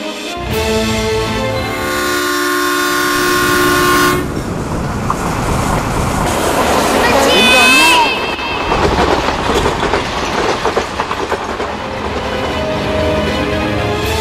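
A train sounds a long horn, then rushes past with a loud, close roar and clattering wheels in a short-film scene, the noise peaking mid-way before easing into rattling rail clatter.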